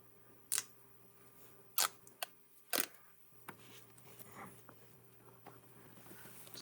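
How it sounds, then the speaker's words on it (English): Backing liner peeled off a VHB adhesive plate for a magnetic cable management mount, giving a few sharp, close crackling rips in separate bursts over a quiet room. "And I'm peeling it off."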